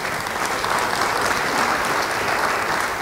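A church congregation applauds steadily and loudly for the full stretch, a dense wash of many hands clapping at once without pause.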